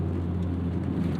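An Acura Integra LS with a K20A engine hums steadily at close range, a strong low drone held through the whole moment with no clear rise or break.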